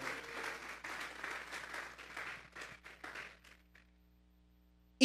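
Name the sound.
congregation clapping hands as an offering to God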